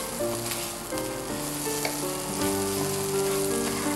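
Ground jackfruit seeds are stirred into egg thoran in a hot pan, with a loud continuous sizzle and frying crackle and some faint tonal background hum, no talking.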